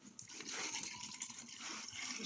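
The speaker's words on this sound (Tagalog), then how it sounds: "lagyan na natin ito ng tubig." Water is poured into a container to make lemon water, giving a steady, soft splashing trickle that continues throughout at close range with no talking.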